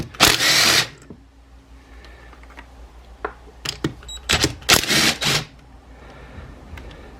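A power tool zips 10mm bolts out of a locked-up 2004 Honda CRF250 dirt bike engine during teardown, several short whirring bursts of varying length spread across the clip, close and fairly loud, with quiet gaps of shop handling between.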